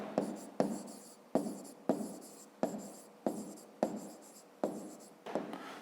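Pen writing on paper during a 5th-grade maths exercise, heard as a steady series of about eight scratchy strokes, each starting sharply and trailing off, close and alone with no talk.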